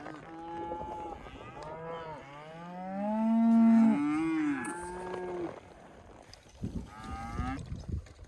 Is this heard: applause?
no